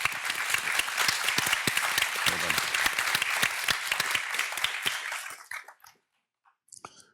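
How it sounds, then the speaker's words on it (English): An audience at the 15th International Sakharov Conference applauds steadily for about five seconds, the clapping close and dense before fading out, followed by a short bit of speech. "should we do a round of applause for the..."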